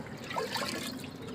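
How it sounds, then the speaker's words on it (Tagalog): Water poured into a container of about two gallons for a homemade potassium fertilizer mix gives a soft, steady trickling splash, faint and close, with no talk. "dagdagan ko lang tong tubig, siguro mga 2 galon"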